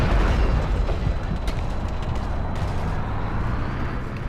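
A tank exploding and burning in the video game Battlefield Iraq, a dense, loud rumbling blast that roars continuously for several seconds with crackling debris on top.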